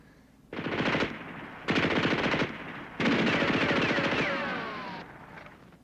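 Bursts of automatic gunfire in a wartime combat scene, three loud sustained volleys of rapid shots separated by short gaps, close and dominant, with a faint whistling tone near the end.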